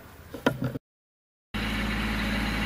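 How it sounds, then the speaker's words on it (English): Kubota B2920 compact tractor engine running after a silent gap, a steady, loud, close idle with a low rumbling hum that holds even to the end. "This little B2920 Kubota tractor that I've got is a lot of fun"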